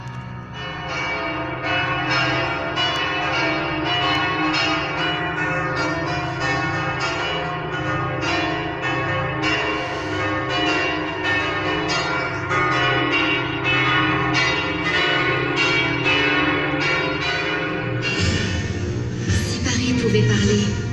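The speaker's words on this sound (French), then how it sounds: "à l'appel des cloches de la tour nord" Church bells ring from the north tower of Notre-Dame de Paris, a loud, dense peal of overlapping strikes and ringing tones sustained throughout, with the pattern shifting near the end as other sounds enter.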